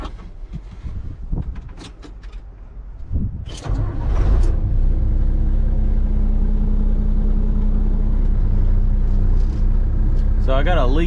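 A truck engine cranks and catches, then settles into a loud, steady idle that runs to the end, with brief clatter and a voice before it starts.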